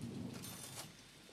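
Rain in the game Jalopy falls as a steady wash of noise, with a low thunder rumble swelling briefly in a short, faint burst.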